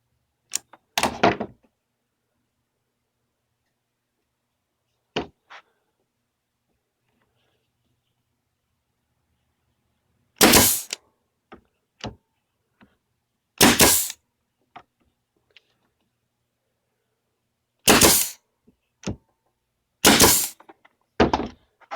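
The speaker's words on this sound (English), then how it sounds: "I'm going to go ahead and staple this on top of it too." A staple gun fires into a 3/4-inch plywood sleigh, giving loud, sharp snapping shots, some single and some in quick pairs, at irregular intervals with silence between.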